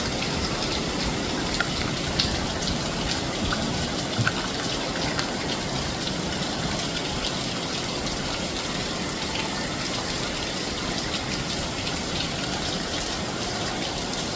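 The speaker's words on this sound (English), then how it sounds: "Rain in the land of wood and water. A lot of rain today." Heavy rain in Jamaica pours steadily with a dense, constant hiss of running water, unbroken for the whole stretch and no voices.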